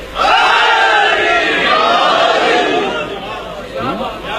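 Loud crowd at a religious gathering for Eid-e-Ghadeer raises chanted slogans in unison, voices swelling and sustained, then fading slightly before a renewed shout.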